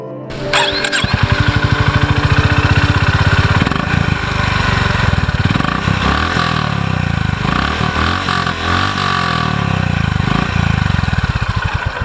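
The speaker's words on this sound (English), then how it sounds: "listening to the exhaust, I would say that Honda did try to come close to the Duk Duk sound" A Honda H'ness CB350 motorcycle engine starts up and settles into a steady, deep thumping exhaust idle, close and loud, with a few throttle blips and no talking.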